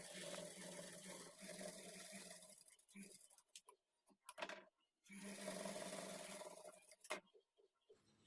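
Sewing machine stitching a folded half-inch edge on a blouse, running in two steady buzzing bursts separated by a pause with small clicks, close and clear, while someone talks quietly.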